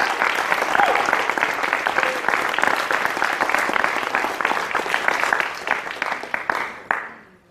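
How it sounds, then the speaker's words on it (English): Sustained crowd applause, dense and steady, fading out toward the end. "So definitely give a round of applause to everybody that is here"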